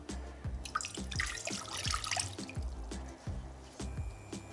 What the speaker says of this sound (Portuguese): Aqui na panela eu vou adicionar uma xícara de 250 ml de água